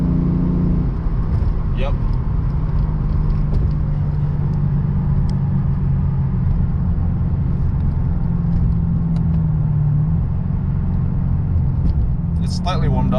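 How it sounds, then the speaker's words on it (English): Steady low exhaust rumble from a Lexus RC F with an ARK exhaust under light acceleration, heard loud and continuous from inside the cabin, with a brief spoken word. "this is me accelerating just a little bit"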